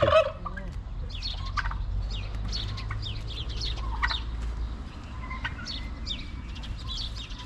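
Several chickens cluck and call in short bursts throughout, over a steady low rumble of background noise.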